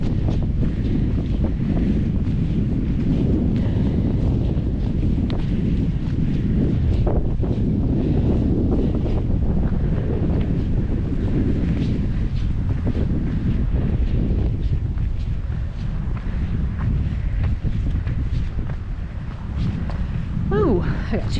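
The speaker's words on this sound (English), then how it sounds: "It is windy up here and cold." Steady wind buffeting the microphone on a cold mountain ridge on the Appalachian Trail near Neel Gap, a constant low roar and rumble throughout with gusty fluctuations, loud and close.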